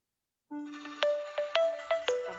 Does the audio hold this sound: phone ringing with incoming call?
yes